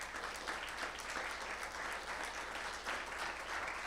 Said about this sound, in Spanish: Denle un aplauso al Señor, amados